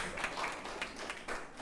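A church congregation at a Sunday service breaks into applause, a steady patter of many hands clapping with a slightly distant, roomy sound.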